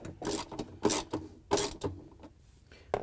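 A wrench ratchets a bolt tight on the clutch motor bracket of a Samsung washer, giving short raspy clicking strokes in uneven bursts, close and fairly quiet with brief pauses between pulls.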